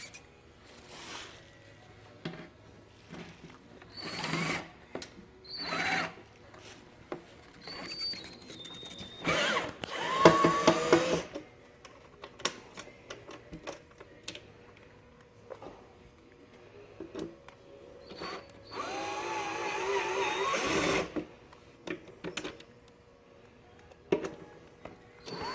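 Power drill backing four bolts out of a black metal base that holds acrylic towers, working in short whirring bursts with a longer run near the middle, close and fairly loud, no talking.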